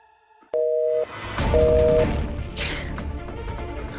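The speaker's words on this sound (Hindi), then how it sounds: "बड़ी ईशा जी को कब से फोन लगा रहा हूँ, लेकिन उनका फोन नहीं लग रहा है।" Two evenly spaced busy-signal beeps sound over a phone line, followed by clattering and rustling noise.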